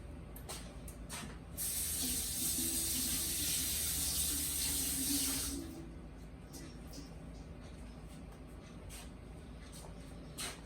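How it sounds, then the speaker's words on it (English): Tap water runs into a sink for a few seconds as hands are washed, a soft hiss rising then cutting off, with faint clicks and background room noise around it. "Let me wash my hands really quick."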